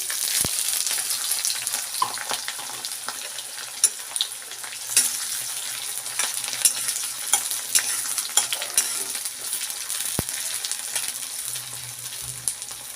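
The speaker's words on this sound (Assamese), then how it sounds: "অলপ সময় পিঁয়াজখিনি ৰঙচুৱা হোৱালৈকে ভাজি ল'ব।" Onions sizzle steadily in hot oil, with occasional clicks and scrapes of stirring throughout.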